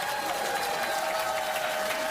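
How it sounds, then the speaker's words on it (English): A partisan Columbus crowd at a PBA USA vs World bowling event cheers and applauds Team USA's win, a steady wash of clapping and cheering from a large indoor audience. "the Columbus partisan crowd reacts to Team USA winning"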